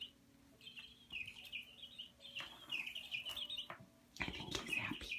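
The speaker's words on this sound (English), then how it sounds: "the new toy Becky bought for Charlie that sounds like a bird" An electronic bird-call toy fixed to a cat's feather wand gives off repeated high chirping tweets in bursts, fairly close, with handling rustle between them and no talk.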